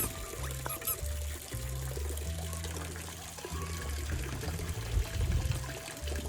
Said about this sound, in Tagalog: Naliligo yung duck